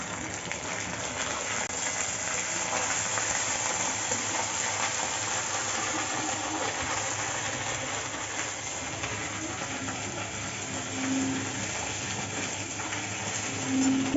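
Ginger paste frying in hot oil with bay leaf, dried chilli and five-spice, a steady loud sizzle and crackle throughout with faint pops, close-up in a home kitchen.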